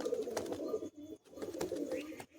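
Madrasi pigeons, large birds, give soft, throaty coos in two close phrases separated by a brief gap, alone without talk.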